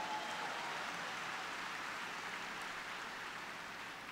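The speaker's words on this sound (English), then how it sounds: "Please give them a round of applause." Steady, dense applause from a large audience at an awards dinner, a continuous wash of clapping held at an even level throughout without voices on top.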